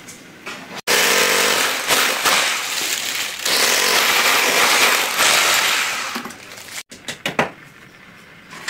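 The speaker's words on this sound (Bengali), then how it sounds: "আমরা এখন হচ্ছে এই দেওয়ালে লাগাই দিয়ে সরাসরি ছিদ্র করে নিয়ে চলে যাবো আর কি আউটডোরে" A power drill bores straight through a wall for an air conditioner's outdoor-unit line, a loud sustained grinding roar for several seconds, then stopping with a few short rattles.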